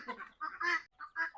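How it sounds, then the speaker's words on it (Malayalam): A newly brought rooster gives a string of short clucking calls in several quick bursts, close and fairly loud, with brief pauses between them. "കൊണ്ടുവന്ന പൂവനാണ്."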